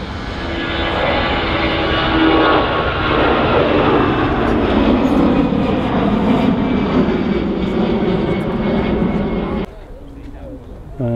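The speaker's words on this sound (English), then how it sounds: "G-VGEM A320 blasted off by EasyJet." An EasyJet Airbus A320 takes off at Manchester Airport, its jet engines roaring loud and close in a sustained broadband rumble that cuts off sharply near the end.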